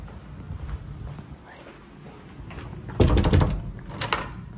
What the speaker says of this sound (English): I just heard knocks on every single door here